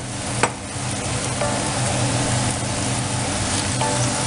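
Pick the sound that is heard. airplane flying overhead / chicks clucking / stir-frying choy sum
stir-frying choy sum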